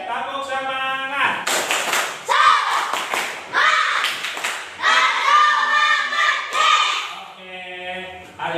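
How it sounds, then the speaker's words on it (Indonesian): A classroom group does a rhythmic spirit clap, with sharp patterned bursts of clapping and hand thumps set between stretches of voices chanting together, all loud and close. "Tepuk semangat."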